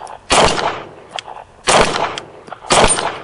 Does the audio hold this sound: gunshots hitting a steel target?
yes